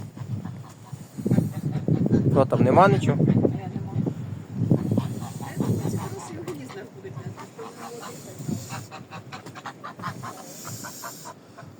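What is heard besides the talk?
geese honking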